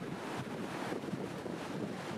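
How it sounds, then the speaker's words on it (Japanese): A strong gust of wind buffets the microphone outdoors near the water, a steady broadband roar lasting throughout with no talk. "おっと、強風が吹いたんで身構えてます"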